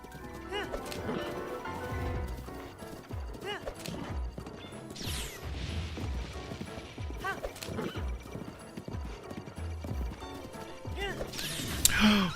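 A horse gallops in Zelda: Breath of the Wild around Hyrule Castle, its steady clip-clop running through dense game sound with a whinny and a sharp crash near the end.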